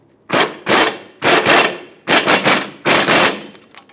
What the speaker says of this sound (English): Install your mounting nut, and we'll bottom this out.